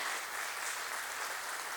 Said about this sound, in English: give all these people a big round of applause